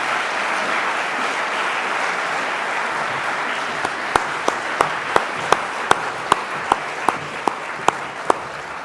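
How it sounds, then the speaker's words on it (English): An audience applauds at an evening research competition event, a dense steady wash of clapping with a few sharper nearby claps standing out toward the end. "let's give them a big round of applause"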